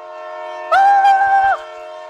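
A train horn sounds one steady, loud blast of a little under a second, standing alone against a constant low hum.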